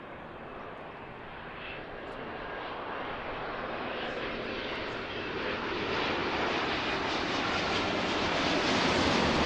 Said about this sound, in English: Here's our next Dreamliner.